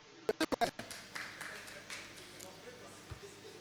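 A seminar audience gives a short burst of several sharp claps for themselves, then the clapping fades under a speaker's voice.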